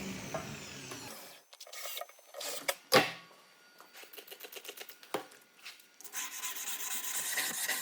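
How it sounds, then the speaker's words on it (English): Steel Damascus knife blade being hand sanded with grit paper, giving bursts of dry rasping strokes, some in quick rhythmic runs, with pauses and a few sharp knocks between, close and fairly quiet. "hand sanding. Starting with 120 grit and working up through 180, 220, 280, 320, and finally 400."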